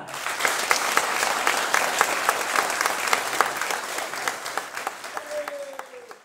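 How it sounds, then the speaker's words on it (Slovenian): Sustained applause from a charity concert crowd while the band bows onstage, a dense, steady wash of clapping that thins slightly toward the end as a brief tone rises over it. "mi se bomo predklonili, vi boste pa ploskali, toliko cajta, da se mi ne dvignemo"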